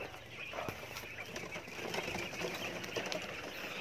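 Quails in a farm pen, hungry before feeding, give a dense murmur of chirps and clucks mixed with brief wing flutters. The steady din holds close and moderately loud with no talk.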